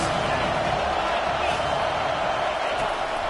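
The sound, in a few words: stadium crowd cheering at college football game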